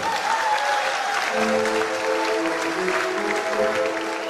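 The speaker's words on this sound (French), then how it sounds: "Applaudissez encore très fort pour eux." Loud, steady applause from a wedding congregation after a nuptial blessing, a dense wash of clapping with a sustained musical tone running underneath throughout.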